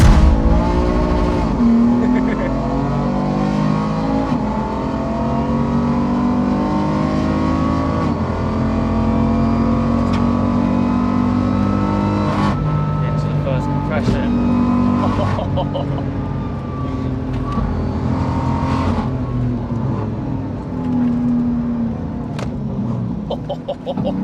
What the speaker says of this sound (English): We'll get it fired up and go do a lap.